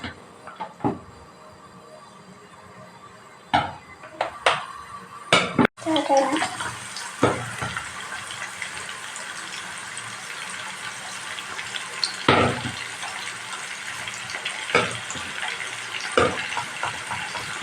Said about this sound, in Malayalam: ആവശ്യത്തിന് എണ്ണ ഒഴിച്ചു കൊടുത്തിട്ട് ചൂടായി അതിലേക്ക് നമുക്ക് ചിക്കൻ പീസുകൾ ഇട്ട് കൊടുക്കാം